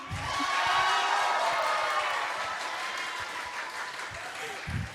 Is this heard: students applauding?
yes